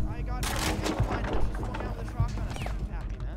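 Shotgun blasts in a Rainbow Six Siege-style tactical shooter, two sharp reports standing out amid continuous dense gunfire and game effects, with voices talking over the action.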